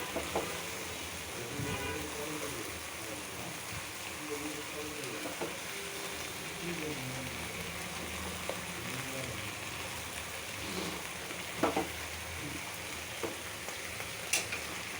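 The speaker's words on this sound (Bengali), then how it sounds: "তরকারিটা শুকনো শুকনো করবো তেলের উপরে ভাজা ভাজা করবো" Vegetables and Malabar spinach seeds frying in oil with dried fish, a steady, close sizzle and crackle running throughout, with occasional small pops and stirring scrapes.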